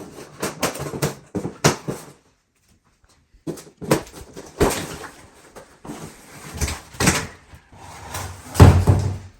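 An old hinged shower door is worked open, giving clustered rattles and clunks of glass and metal frame, a quiet pause, then more knocks and a heavier thump near the end.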